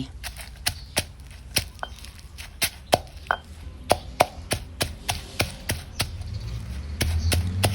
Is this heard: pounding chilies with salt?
yes